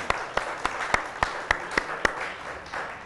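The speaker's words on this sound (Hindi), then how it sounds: "अमीर अली के लिए तालियां तो बजाएं जी" A studio audience on a Ramadan iftar television broadcast claps for a guest named Amir Ali, a soft, fairly distant wash of applause punctuated by regular sharp claps that fade toward the end.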